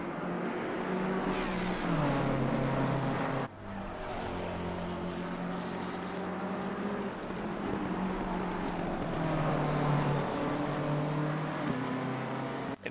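Several race car engines roar together in a sim racing game at Watkins Glen, with harmonic engine tones rising and falling through gear changes as cars run close in a slipstream battle, loud and continuous for about thirteen seconds.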